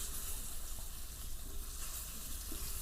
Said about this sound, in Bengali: তেলে এবার বেগুনটা একটু ভেজে নেবো